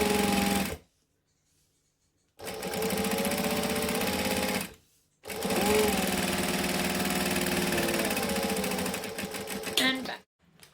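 A sewing machine runs in two long bursts of steady whirring stitches with a short stop between them, sewing back and forth to back stitch, then falls silent at the end.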